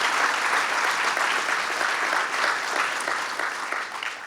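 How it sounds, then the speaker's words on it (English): Sustained audience applause for Anne Marie at a Staten Island event, a dense steady wash of clapping that stays loud and tapers slightly toward the end, with no talk over it. "Let's give her another round of applause"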